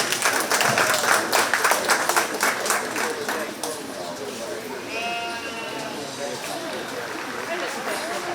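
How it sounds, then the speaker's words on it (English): Audience clapping at a 4-H goat show at the 2021 Shelby County Fair, a dense round of applause loudest at the start and tapering off, with goats bleating through it and a voice speaking over the crowd. "Let's give this young lady a nice round of applause."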